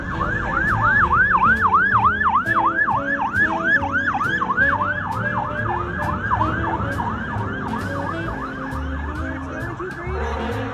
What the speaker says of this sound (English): The fire truck's coming.